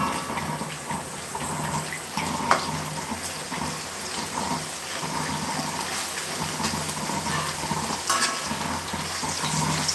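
Potatoes and other foods frying in a pan for a temple offering, a continuous dense sizzle with stirring scrapes and a couple of clinks of utensils, close and steady throughout without speech.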